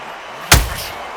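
A counter punch landing in the boxing video game Undisputed, Joe Calzaghe against Carl Froch: one sharp, heavy impact thump that decays quickly, alone against a quiet background.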